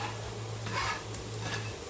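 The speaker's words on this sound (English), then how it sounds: "You hear that sizzle?" Chopped garlic and onion sizzling in a hot pan, a steady close crackling hiss with a low hum beneath and no talking.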